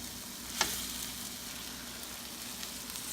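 A milkfish steak fries in a pan with a constant hiss of oil, close and steady, interrupted by one brief clink near the start.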